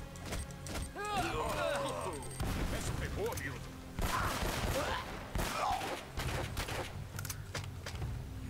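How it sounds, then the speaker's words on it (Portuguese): Combat in the PlayStation 4 remaster of Uncharted: Drake's Fortune, with an enemy grenade explosion and bursts of gunfire crackling through a continuous loud battle mix, while excited commentary in Portuguese runs over it. "o gajo manda granada."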